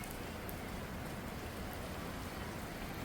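Steady rain falls along the Appalachian Trail in North Carolina, a dense, even hiss of drops that holds unbroken from start to finish with no voices over it.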